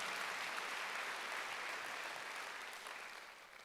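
A congregation claps at a Wednesday worship service in a Korean church: a soft, distant wash of steady applause that holds for a few seconds and then slowly fades.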